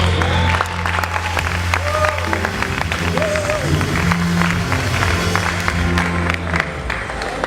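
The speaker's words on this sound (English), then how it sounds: "Can we give him a round of applause?" An audience applauds at a pharmacy induction ceremony of the Faculty of Pharmaceutical Science at Nnamdi Azikiwe University, a dense, sustained patter of many hands in a hall, with voices talking over it.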